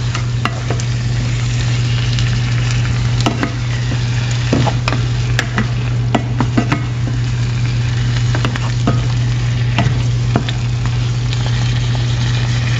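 Chicken pieces of mixed cuts, including wings, fry with tomato in a pan while being stirred, giving a steady loud sizzle with scraping and clinking spoon strokes throughout, over a constant low hum.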